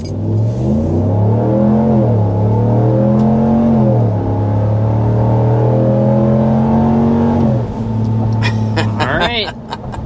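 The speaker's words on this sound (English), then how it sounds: "we need to start with that acceleration to show you what this V8 sounds like." A 2026 RAM 1500 Limited's HEMI V8 pulls hard to 60 mph, its loud engine note climbing through gear changes in rising, falling sweeps, then easing off near the end as a brief voice cuts in.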